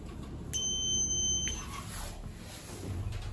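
Schindler elevator emergency alarm under test, a single steady electronic beep lasting about a second over low background hum, close and moderately loud.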